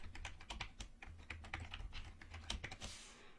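Rapid, irregular clicks of keys on a computer keyboard as a name is typed, close and fairly quiet, with no voices.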